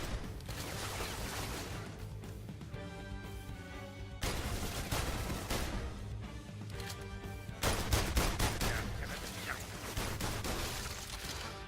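Repeated gunfire bursts in The London Heist VR game, loud and dense, with sharp broadband cracks and clattering layered over a continuous game soundtrack, intensifying toward the end.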